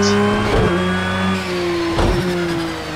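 A race car engine revs in the Project Cars 2 racing game, a steady droning tone that dips and climbs again around gear changes, loud and close with no one talking.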